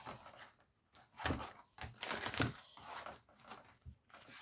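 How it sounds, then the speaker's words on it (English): Tarot cards being shuffled by hand, close and crisp, in uneven bursts of riffling and rustling papery slaps across several seconds, with no talking over them. "shuffle and see what we get."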